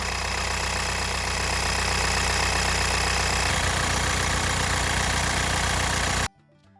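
A 2009 Kia Sorento R diesel engine idles with a loud, steady, close rumble that holds unbroken for about six seconds before cutting off abruptly.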